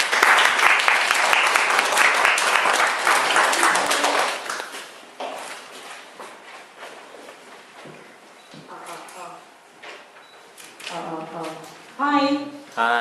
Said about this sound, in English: please welcome Lisa with a big round of applause